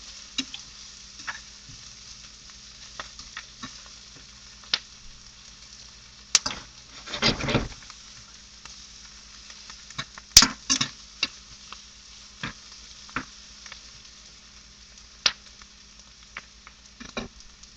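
Fajita vegetables simmer in a pan with a faint, low crackle, punctuated by scattered ticks and a couple of brief louder scrapes or knocks.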